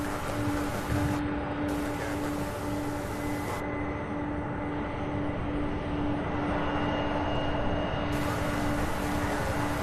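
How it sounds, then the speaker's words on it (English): An American Airlines Embraer E-175 jet arriving at Louisville International Airport produces a steady, sustained engine roar heard from a distance, with a low constant hum and no speech. "This E-175 arriving from Boston, American Airlines"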